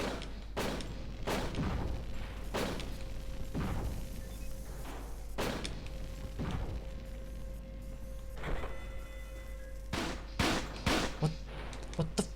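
Video game gunfire hits the player in a rapid series of sharp, loud shots and thuds spread across several seconds, with a steady low hum underneath.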